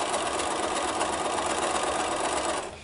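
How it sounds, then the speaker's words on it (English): Sewing machine stitching a seam on quilt triangle units, a fast steady whirring drone running close and loud before winding down at the end. "I'm just going to rotate that and sew that first seam."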